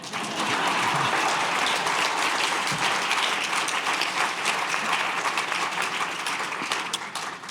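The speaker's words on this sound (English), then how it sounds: "Clap for Kevin." A large crowd at the grand opening celebration of the Klarman Building at BIDMC claps loudly and continuously, a dense, even roar of applause with no talking.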